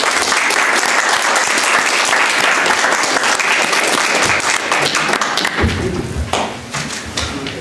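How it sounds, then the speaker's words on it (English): Audience applause for mayoral candidates at a municipal candidate forum in Ripon, dense and sustained throughout, thinning slightly toward the end. "Let's give them a round of applause."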